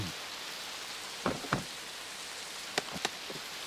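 Heavy rain pours in a Chibi Maruko-chan cartoon scene, a steady broadband hiss with a few sharp taps and knocks scattered through it, and no voices.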